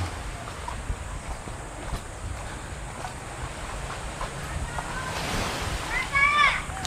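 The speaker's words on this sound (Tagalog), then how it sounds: "nandito kaya tayo sa pampang ng dagat ngayon" Ocean waves wash steadily onto the shore at Buenavista beach, a constant broad surf roar with wind, swelling slightly near the end as faint distant voices and a brief chirp come through.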